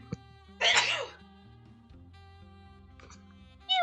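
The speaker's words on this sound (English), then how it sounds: "I have to sneeze, hold on." A single sharp, loud sneeze bursts out close to the microphone near the start, with soft background music running underneath and another brief vocal sound at the end.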